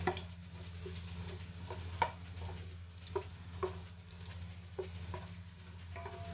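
Food browns in a frying pan while being stirred for beef papaitan, a steady low sizzle broken by sharp scraping clicks of the spoon every second or so, close and without voices.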